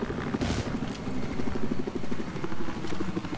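A helicopter's rotor chops steadily nearby in Battlefield 4, a rapid throbbing thrum with a brief burst of noise early on.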